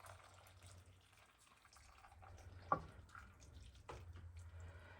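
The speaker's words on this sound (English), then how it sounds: "we are going to slowly pour this hot liquid over top of this" Hot liquid is poured slowly over a layered hamburger-and-noodle casserole with a cream corn layer, a faint soft trickle and splash under low background hum, with a couple of brief knocks.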